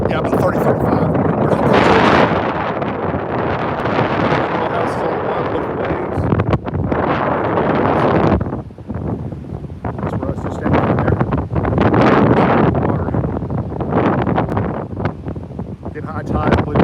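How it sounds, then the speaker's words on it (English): Strong Hurricane Beryl wind gusts on the Texas coast roar loudly and continuously against the microphone, easing briefly midway before surging again. "Oh, it's windy up here."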